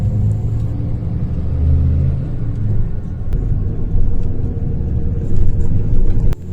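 An HRTC Volvo bus runs at night on the Chandigarh to Rohru route, its engine a steady, close low rumble with slight surges, heard from inside the cabin with no talking.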